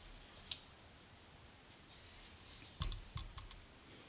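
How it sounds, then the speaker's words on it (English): The safety lever of a B&T GHM9 pistol-caliber carbine clicks into place: one faint click, then a quick cluster of small metallic clicks a couple of seconds later, close and quiet. "You should hear the click and feel the retention."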